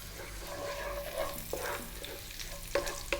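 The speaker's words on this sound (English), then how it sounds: "we're going to drop in our cumin seeds and our curry leaves." Cumin seeds and curry leaves sizzle steadily in hot coconut oil over above-medium heat, a close, continuous frying crackle with a few sharper pops and spoon scrapes, no voices.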